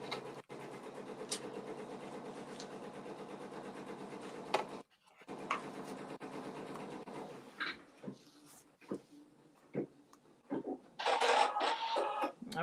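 An in-the-hoop embroidery machine stitches straight across and back over denim fabric, a steady mechanical whirring that drops out briefly midway, then gives way to sparser, uneven stitching bursts.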